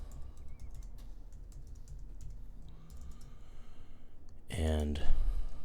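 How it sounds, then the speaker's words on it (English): Typing on a MacBook Pro keyboard while entering a password, soft rapid key clicks under room noise, ending in a louder burst of close taps and a thump. "So I'm going to type in my password for the administrator"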